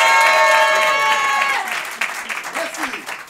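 Audience at an improvised theatre show responding to a call to applaud: a loud vocal cheer at first, then scattered clapping that thins out toward the end.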